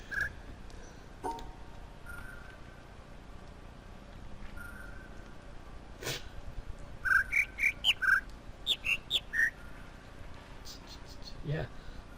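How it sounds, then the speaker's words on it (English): Birds chirping in the video game The Witness, part of a birdsong puzzle: a run of short, bright chirps clustered in quick succession, with a few more scattered singly, over a faint ambient background. "It's the birds again."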